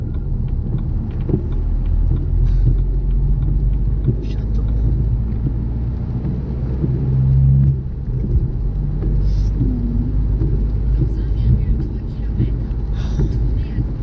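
A BMW 318d E90 diesel engine (M47) with a full straight-through exhaust runs at a steady low rumble, with someone speaking briefly and small clicks and knocks over the drone.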